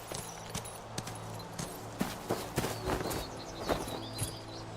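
A horse in the game Where Winds Meet trots along with clear, rhythmic hoof clip-clops, close and moderately loud, with faint birdsong in the background.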